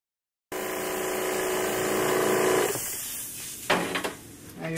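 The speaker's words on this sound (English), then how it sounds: "Okay, so I'm going to turn on my compressor." An air compressor for spraying glaze switches on abruptly and hums steadily for about two seconds, then its drone fades while a few sharp knocks follow close by.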